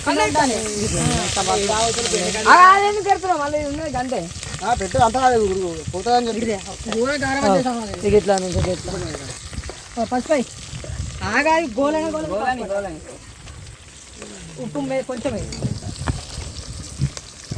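Chillies sizzling and frying in a pan, a steady crackling hiss running throughout with people talking over it at close range.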